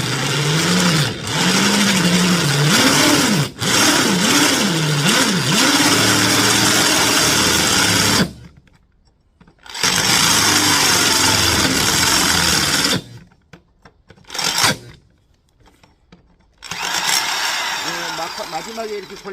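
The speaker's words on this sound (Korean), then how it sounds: "얘로 한번 더 뚫어 볼게요. 요건 좀 쉽게 뚫릴 거예요." An electric drill bores a hole with a larger bit, its motor whining and wavering under load in long runs broken by sudden stops and brief restarts, with a person speaking in between.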